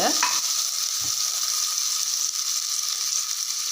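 Onions fry in oil in a pan for Ramadan nombu kanji, a continuous loud close sizzle with a brief stir near the start, no voices.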